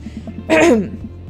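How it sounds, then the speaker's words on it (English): A single throat clearing, a short harsh burst standing out from a quiet background with faint murmuring. "I clear my throat."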